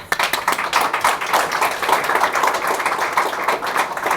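Audience applause at a book launch reception at the Royal Thames Yacht Club in London, a dense steady patter of many hands clapping throughout, fairly close and alone.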